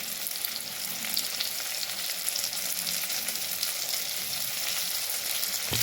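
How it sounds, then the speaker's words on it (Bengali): Ground spices (cumin, coriander, turmeric and meat masala) sizzle and fry steadily in a pan for a fish and potato curry, a continuous close crackling hiss with no talking. "দিয়ে মশলাটা একটু কষিয়ে নেবো।"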